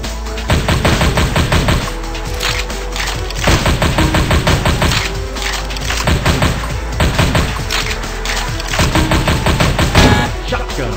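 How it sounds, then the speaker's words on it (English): Rapid shotgun blasts fire steadily in the Super Cops video game, loud and close, with dense repeated bursts over a busy game soundscape and no talking. "Shotgun."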